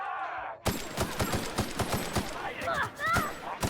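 Rapid gunfire from a weapon in the video game The Outer Worlds, a loud burst of evenly spaced shots that keeps going for several seconds after a brief quiet lead-in, with game sound effects mixed in.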